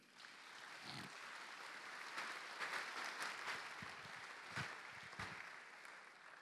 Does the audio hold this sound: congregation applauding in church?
yes